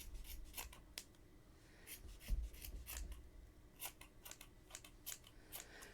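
Scissors snip repeatedly through long yarn strands on a crocheted Christmas gnome ornament, a quick run of crisp close cuts spaced irregularly, with soft rubbing and handling between them and no talking.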